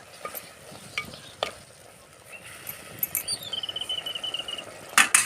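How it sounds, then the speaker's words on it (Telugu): Tomatoes cooking in a pan for egg masala curry, a soft sizzle under scattered stirring scrapes and clicks, with a quick run of squeaky utensil taps near the end. "ఇలా టమాటాను కాసేపు ఉడకబెట్టుకోవాలి పచ్చివాసన వేదాక టమాటా చక్కగా ఉడుకుతుంది"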